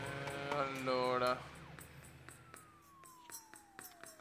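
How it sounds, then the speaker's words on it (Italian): A fire engine siren sounds in the city-building video game SimCity, a wailing tone that sweeps through the scene and then a long falling note, with someone talking over the start. "stanno chiamando i pompieri, allarme antincendio."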